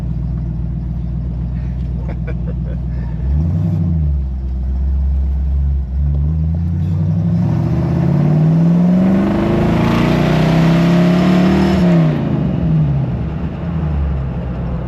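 A 1968 Ford Mustang engine with a slightly sticking throttle idles and revs close by, rising and falling through several loud, sustained revs with a steady rumble throughout.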